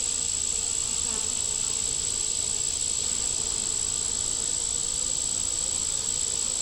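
Honey bees swarm around an open hive frame, their dense, continuous buzzing holding a steady high drone that fills the whole stretch at moderate, even loudness with no talking.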